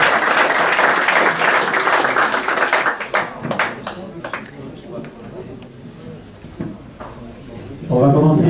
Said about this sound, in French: c'est Pascal de Cash Converter, qu'on peut encore une fois applaudir.